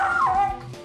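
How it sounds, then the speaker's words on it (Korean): A dog gives one short, high-pitched yipping bark that drops into a whine, sounding close and fairly loud, with no talk over it. "송기리는 짖기 바쁜데요"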